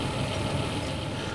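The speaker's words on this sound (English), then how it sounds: "You can hear that noise in the background, that's the oven." A steady, dense mechanical rumble from a noisy kitchen oven drones on without a break, loud and close, like an appliance motor running hard with no talk over it.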